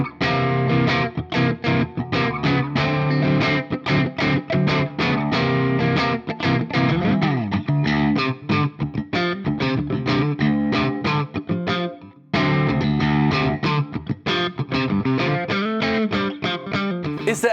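A PRS SE Mark Holcomb electric guitar plays through a distorted amp in a classic rock style, with loud, sustained riffs and chords throughout and one brief pause.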